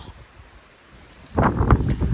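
Low rumbling wind noise buffets the microphone at a volcano crater in the Azores, growing louder and gustier after a quiet start.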